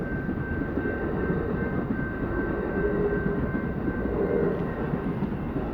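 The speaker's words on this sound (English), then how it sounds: "I got kind of distracted by the train." A modern Amtrak passenger train passes near an old western town in New Mexico, a continuous heavy low rumble and roar with a faint steady tone above, holding at an even loudness throughout.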